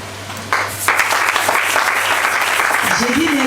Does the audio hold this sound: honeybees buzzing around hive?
no